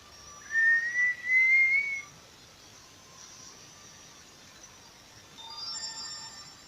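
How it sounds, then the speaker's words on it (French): A game notification chime from Pokémon Sapphire rings out as a short rising tone, then fainter tonal blips follow a few seconds later over quiet background hiss. "Allons voir qu'est-ce que c'était comme notification."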